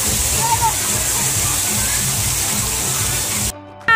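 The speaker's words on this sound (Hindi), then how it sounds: "पानी निकाल रहा है।" Water gushing and splashing at a water park, a steady loud rush with voices in the background, cutting off abruptly near the end.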